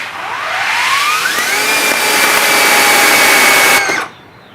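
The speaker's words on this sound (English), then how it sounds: "you press the button here on the wand. So you can see it takes about a second to get up to full pressure, and then it starts shooting." An EGO 2100 pressure washer starts up when the wand button is pressed, its steady whine rising in pitch for about a second before settling into a loud, continuous high-pressure spray that cuts off abruptly near the end.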